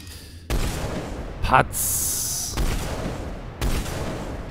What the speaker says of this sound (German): Dann probieren wir jetzt auch mal das Black Widow aus. Das hat natürlich einen viel geileren Sound